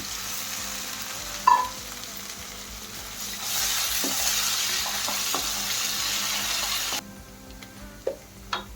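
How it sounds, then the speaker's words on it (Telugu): Moong dal lentils, washed twice, frying in a pan as a carrot fry is cooked; a steady soft sizzle with a few clicks of stirring, near and alone. "దాంట్లో 2 సార్లు కడిగి పెట్టినటువంటి 4 చెంచాల పెసరపప్పులు వేసి అవి ఎర్రగా వేగే వరకు వేయించాలి."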